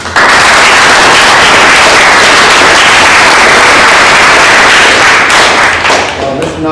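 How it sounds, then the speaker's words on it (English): Loud, close applause from a dinner audience at a military academy dining-in, dense continuous clapping that thins slightly toward the end. "Round of applause."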